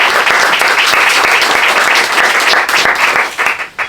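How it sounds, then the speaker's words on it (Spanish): Steady, dense applause from an audience at a book presentation, loud and close throughout, thinning slightly toward the end. "quiero pedir un primer aplauso para David antes de que empecemos"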